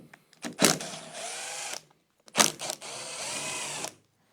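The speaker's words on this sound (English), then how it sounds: "Start by removing all these bolts," Power driver removing small Phillips screws from a Yamaha Rmax 4 side-by-side: two separate bursts, each a sharp rising whine that settles into a steady buzzing spin, with a short silence between them.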